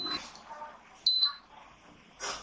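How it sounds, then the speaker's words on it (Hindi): A repaired induction cooktop, fixed after a short circuit by replacing its IGBT, switches on with a couple of short, clear high-pitched beeps, the second one slightly longer, in a quiet room. "ये ऑन हो रहा है, बीप आवाज़ कर रहा है, मतलब ये ऑन हो रहा है"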